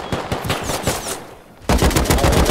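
Sustained machine gun fire from a helicopter in the survival game Rust, rapid rhythmic bursts continuing throughout and getting louder and denser near the end, with no talk over it.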